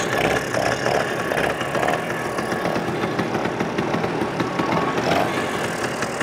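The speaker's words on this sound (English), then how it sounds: "I have the choke off right now, and it's already got a pretty good idle." A vintage Vespa P200E scooter engine idles with the choke off after sitting unused for over two years, a steady, loud, close putter with a rapid even pulse.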